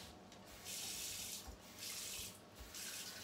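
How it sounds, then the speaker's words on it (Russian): Water gushes from a hot water tap into a sink in a steady rushing stream that surges and eases in waves, close by, with no talk. "и из горячего крана вода пошла, холодная, может, это, смотрите, о, слышите?"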